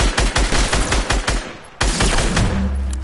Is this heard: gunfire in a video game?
yes